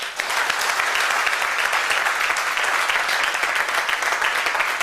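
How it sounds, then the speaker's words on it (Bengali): Sustained audience applause at a motivational seminar, dense clapping from a large crowd that holds steady and loud for about five seconds with no voices over it. "আচ্ছা, তাহলে ওনার জন্য করতালি হবে।"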